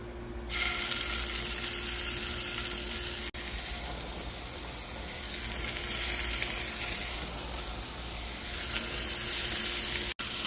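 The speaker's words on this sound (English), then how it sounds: "When you put them down, they should make a sizzling sound." Loud, continuous sizzling of scallops searing in a hot pan, steady crackle throughout with no talking.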